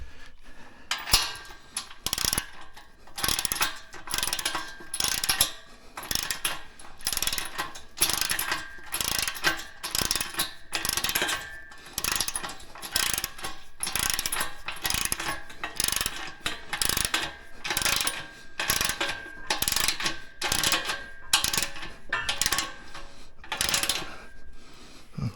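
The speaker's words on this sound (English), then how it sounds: "Okay, on this side I can use the ratchet." A ratchet clicks in repeated rapid bursts while tightening bolts during assembly of an Ultra Fuego UF-1186 home gym, the close, sharp pawl chatter steady across the whole stretch with brief pauses between strokes.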